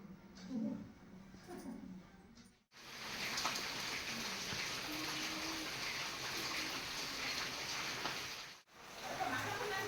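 Rain falls steadily in a village setting, a soft continuous hiss of drops with faint splashing, heard at moderate distance and broken by two brief cuts, with a faint voice murmuring at the start.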